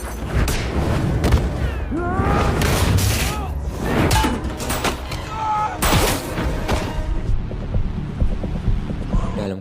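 A grenade blast in an action film about a garbage-collector superhero, booming thuds and rumbling explosions layered with dramatic score and sound effects, loud and dense throughout, with voices underneath.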